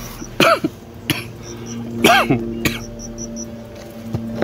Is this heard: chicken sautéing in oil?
no